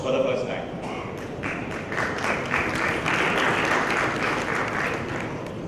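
Audience applause at a mutual fund industry knowledge summit, a dense sustained wash of many hands clapping that swells and holds, filling the hall.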